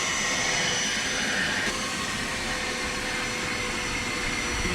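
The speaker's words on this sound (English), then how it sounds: "I'm vacuuming." Vacuum cleaner working inside a car, a steady loud whooshing drone with a constant high whine that holds unbroken throughout, close by and with no talk.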